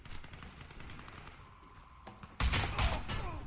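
Gunfire in the video game Warface: a few sharp shots ring out before a louder, denser burst of rapid fire that rattles on to the end.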